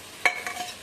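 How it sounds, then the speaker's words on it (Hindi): Raw mango vegetable tempered in a hot pan, with a sharp burst of sizzling at the start that settles into a steady, softer crackle and hiss, close by, with no talking. "इसको छोंक देती हूँ"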